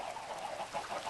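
Chickens clucking in a Minecraft chicken farm, a quick overlapping patter of short clucks close by, layered over a constant game background.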